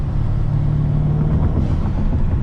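A Mercedes C63 AMG engine rumbles loud and close as it downshifts on a cold winter day, a deep steady drone with a brief rise in pitch partway through.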